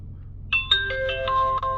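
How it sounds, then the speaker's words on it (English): Startup chime from a Carpuride 9.3 inch portable Apple CarPlay/Android Auto head unit: a bright series of electronic tones rising over a low hum, close and clear, lasting about a second. "It does always make that chime."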